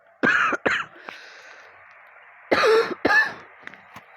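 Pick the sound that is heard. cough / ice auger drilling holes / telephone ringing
cough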